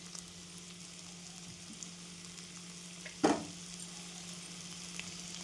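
Onion sautéing in oil in a pan, a faint steady sizzle with one sharp clatter of a spoon stirring partway through.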